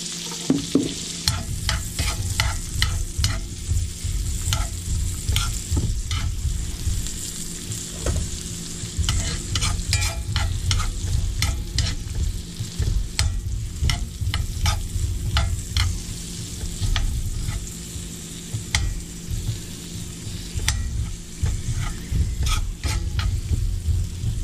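Onions sauté in olive oil and melted butter for beef stroganoff, giving a loud, steady sizzle broken by frequent scraping stirs of the spoon against the pan, with no talking.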